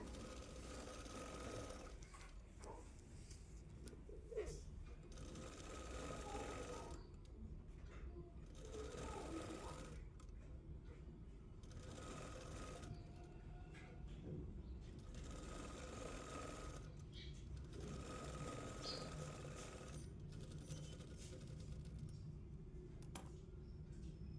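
A sewing machine stitches a blouse seam in short bursts of fast, rattling needle strokes separated by brief pauses, fairly quiet and close, with a person speaking at times.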